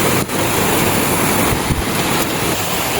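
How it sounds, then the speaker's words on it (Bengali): A heavy storm rages outside with a constant, loud roar of wind and pouring rain, broadband and unbroken for the whole stretch, with a few stronger gusts and no voices. "বাহিরে প্রচণ্ড ঝড় বৃষ্টি উঠছে।"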